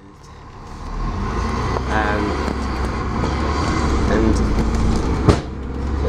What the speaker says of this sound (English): And this bus runs really nice and fast. It's a really nice motor noise.